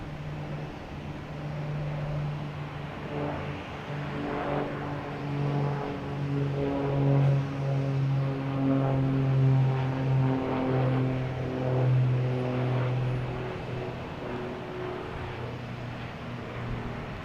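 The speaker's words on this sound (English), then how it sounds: "taking off, we have another Cessna. Cape Air heading to Bahaba. 402. Just going to go over our heads again." A Cape Air Cessna 402 twin-engine plane takes off at Boston Logan Airport and passes overhead, its propeller drone swelling louder toward the middle, then fading as it moves away.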